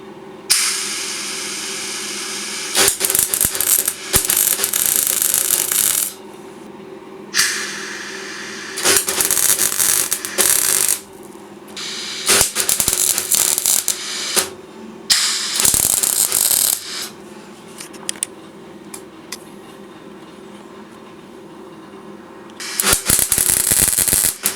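Tack welding on a Trabant body: bursts of harsh crackling buzz from a welder, several short welds of a second or two separated by quiet pauses, close and loud.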